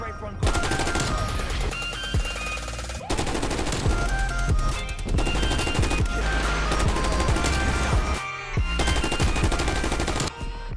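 Sustained automatic gunfire from a strafe run in the video game Black Ops Cold War, loud, dense bursts filling nearly eleven seconds with brief gaps around three and eight seconds.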